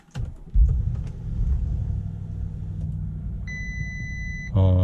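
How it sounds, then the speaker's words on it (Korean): A Bentley Bentayga fired up with the push-button start: a low engine rumble builds and settles into a steady idle, then a short electronic chime sounds before the engine note swells louder at the end. "시동을 한번 걸어 볼까요?"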